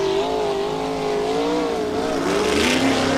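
A USAC sprint car runs a qualifying lap at Gas City during Indiana Sprint Week, its engine a loud, steady high-revving drone that wavers in pitch as it circles the track.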